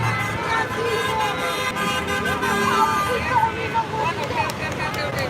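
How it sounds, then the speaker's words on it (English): Car horns honk repeatedly amid steady street traffic at a protest and memorial in Gardena, with overlapping toots of varying pitch and a background murmur of crowd voices. "There appear to be all horns honking in support of the protest."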